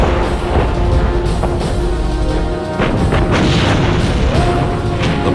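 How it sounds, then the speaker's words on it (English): The battleship Bismarck firing its guns, heavy booming blasts with deep rumbling and rolling reverberation that fill the whole stretch, dense and loud, with no talking. "Bismarck fires again."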